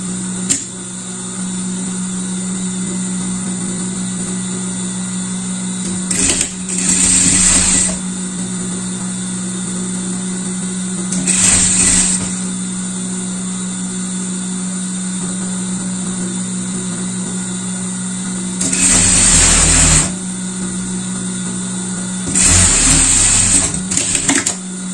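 Sewing machine stitching the seams of a sporty pet jacket, matching ribbed cuff to ribbed cuff and underarm seam to underarm seam, in short loud bursts of steady whirring with a faint hum between them.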